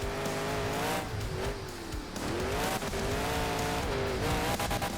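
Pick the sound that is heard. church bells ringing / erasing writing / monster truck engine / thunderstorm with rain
monster truck engine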